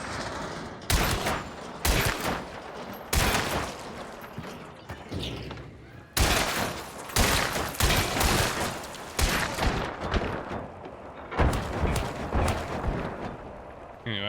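Hunt Showdown 1896 gunshots go off as sharp, loud single reports, roughly one every second or so, with short echoing tails and quieter mechanical handling between shots.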